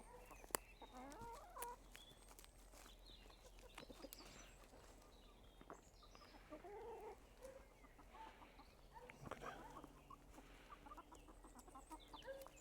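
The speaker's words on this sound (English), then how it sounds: "Take a look at these chickens." Chickens scratching for worms outdoors give soft scattered clucks and murmurs at a distance, faint against a low background hum, with no talking.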